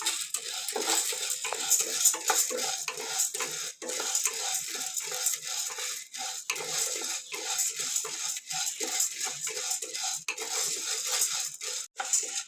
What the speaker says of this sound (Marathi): चणाडा भाजून घेते